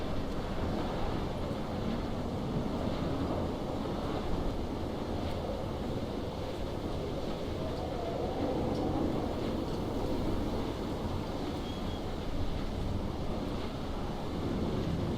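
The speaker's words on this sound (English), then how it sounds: "think you can probably hear the wind. It's getting very violent." Violent wind in the video game Dear Esther roars as a steady, loud, broadband rush, unbroken and with no one speaking.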